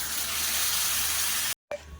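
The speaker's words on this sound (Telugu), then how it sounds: "ఇప్పుడు వాటర్ పోసుకోవాలండి" Water rushes steadily in a continuous gush, poured into a pot of half-cooked chana dal curry, stopping abruptly near the end with a brief clink afterward.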